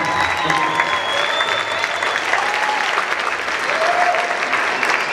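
An audience applauds steadily throughout, a dense wash of clapping with a few scattered cheers.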